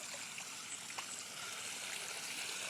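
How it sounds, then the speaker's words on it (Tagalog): A small stream of water flows through farmland countryside, a steady soft trickle and babble heard close and continuous, with no voices. "Yung malit na agusan ng tubig?"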